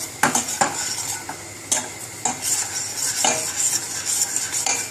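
Flour being stirred into a cheese sauce in a pan, with irregular clinks and scrapes of a utensil against the pan over a soft background sizzle, no talking.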